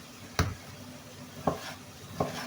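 Three separate knife taps strike a cutting board as a tomato is cut into small pieces for karnıyarık, clean and close, with short pauses between cuts and no talking.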